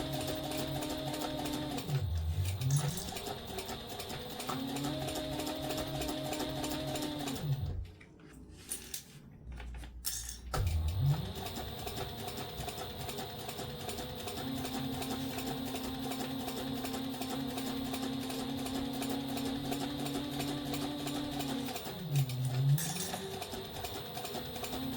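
A sewing machine stitching a straight seam on a foam-lined handbag runs steadily in long continuous bursts with a short pause midway, close and clear, with no talk.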